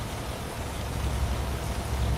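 Steady rain falls as a dense, even hiss with soft low patter, continuous and alone for a couple of seconds without any voices.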